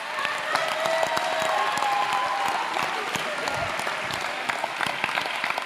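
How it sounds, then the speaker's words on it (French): Audience applause for the performers after a stage show, a loud, continuous crowd clapping with scattered sharper claps standing out over several seconds. "Je vous demande de les applaudir très très fort."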